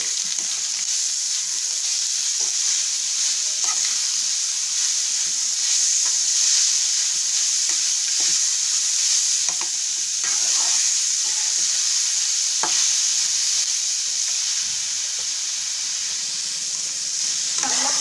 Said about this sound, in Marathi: हा लाल भोपळा आपण तुपावर चांगला परतून घेणार आहोत।